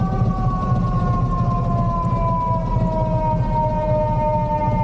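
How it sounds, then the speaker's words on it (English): An ambulance siren sounds with a steady, slowly falling wail that seems to be dying out, loud and continuous over heavy low traffic rumble, heard from a motorcycle riding through a Middle Tennessee city. "That's a funny sounding ambulance siren. Just kind of sounds odd, like it's dying."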